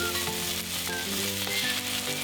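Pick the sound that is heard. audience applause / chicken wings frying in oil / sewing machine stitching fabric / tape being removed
chicken wings frying in oil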